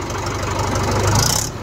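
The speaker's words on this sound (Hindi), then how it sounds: "बिल्कुल महिंद्रा 575 वाली आवाज है इस ट्रैक्टर की" A tractor engine with a Mahindra 575-like sound revs briefly and loudly up close, a dense rough mechanical roar rising slightly before cutting off.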